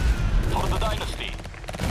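Sustained, dense gunfire from combat units in the real-time strategy game Tempest Rising, a loud continuous fusillade of overlapping shots and explosions filling the whole moment.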